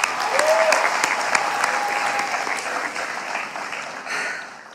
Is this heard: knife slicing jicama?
no